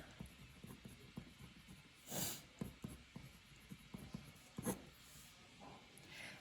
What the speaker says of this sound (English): I'm going to write the name here.